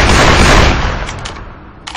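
Video game gunfire erupts in a loud, dense burst of overlapping shots and booms that quickly decays, with a brief sharper report at the end.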